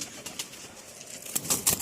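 A pigeon flaps its wings in quick, soft bursts trying to reach the loft, the fluttering growing louder toward the end, with no voices.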